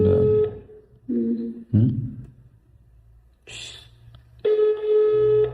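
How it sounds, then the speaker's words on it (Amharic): A phone dials out with a few short tonal beeps and a steady ringing tone. People talk between the tones. "ስልክ እኮ እየደወልን"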